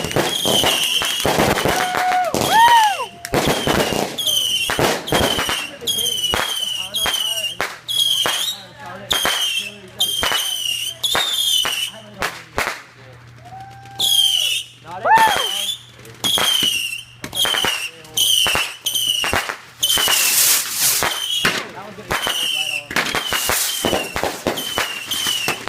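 Fireworks and firecrackers going off on New Year's Day, a rapid, loud string of sharp bangs and crackles with occasional whistles, close by and continuing throughout.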